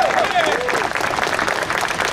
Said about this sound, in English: Give yourself a round of applause for being out here today.